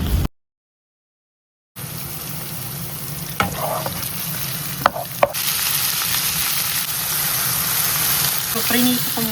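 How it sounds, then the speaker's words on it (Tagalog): Vegetables fry in a hot pan with a loud, continuous sizzle, broken by the clatter of stirring and occasional scrapes. A voice speaks now and then over the cooking. "So, prinito ko muna itong mga gulay."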